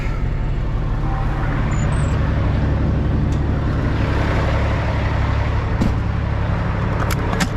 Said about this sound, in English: We'll let this car go by.